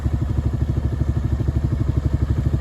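Tractor pulling a grain drill while planting oats in a field, a loud, close, steady diesel engine throb with a fast even pulse and no voices.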